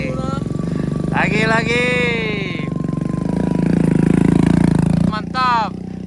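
Motorcycles rev hard up a steep wooden hill climb at Duo Muaro Aie, with a rough, rising engine drone that runs throughout and people shouting over it.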